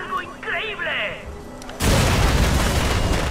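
Cars blowing up on a bridge in the shooter Borderlands 2, a sudden loud, close, broad explosion roar that cuts in after a stretch of talking and rings on to the end.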